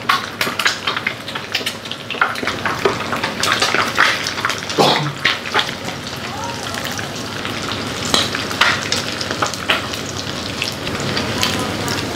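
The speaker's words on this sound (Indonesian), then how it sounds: "Kalau minyaknya udah panas, kita udah bisa mulai ceplok si telurnya." Eggs being fried in hot oil in a home kitchen pan, a steady loud crackling sizzle with bursts of spattering and some clatter, running throughout with faint voices now and then.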